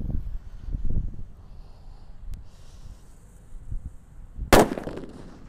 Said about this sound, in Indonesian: Lanjut kali ini ada mercon petir ya. Ini yang paling banter ini.